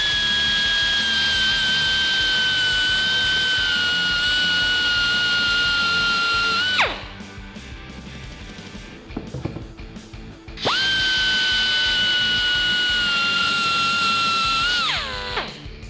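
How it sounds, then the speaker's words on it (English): A grinder cleans up the cut on a Tacoma leveling kit stud, with a high steady whine that winds down and cuts out, then a pause with small clatter before it spins up again and winds down once more. "you can use a grinder at this point."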